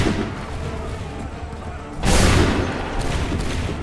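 A volley of gunfire in Assassin's Creed 3 erupts as a sharp, loud burst after a stretch of rumbling battle noise, leaving a lingering echo.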